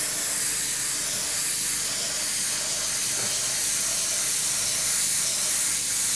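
Continuous airy hiss of an airbrush spraying water-based Trident paint, steady and fairly loud throughout with no pauses.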